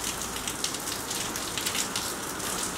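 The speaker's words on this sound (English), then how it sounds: "it's still pissing rain for the last couple of hours" Heavy rain pours outside an apartment in Hong Kong, a steady dense hiss of water on surfaces that continues without pause and with no voices.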